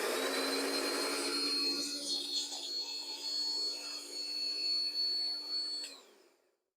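A cordless lawn mower's electric motor runs with its blade removed, giving a steady whine that holds for about six seconds and then spins down and stops.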